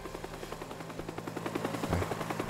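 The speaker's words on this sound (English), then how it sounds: "Okay, the helicopter is there." A helicopter in the video game Teardown keeps up a fast, even rotor chop with a low engine hum beneath, steady and moderately loud throughout.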